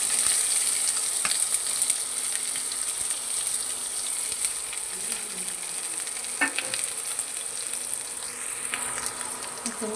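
Chopped onion hits hot oil in a pan, raising a loud, continuous hiss and crackle up close, with a few sharp scrapes and clinks from stirring along the way.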